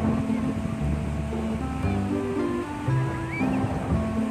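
Ocean surf rolls in on a beach where a river flows into the sea, a continuous rushing wash with low rumble and some wind buffeting the microphone.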